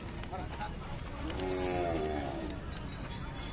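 A young Khillar bull moos once at a busy cattle market in Sangola, a drawn-out call rising and falling for about a second over a steady crowd murmur and background hiss.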